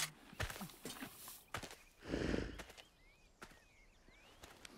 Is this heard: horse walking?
yes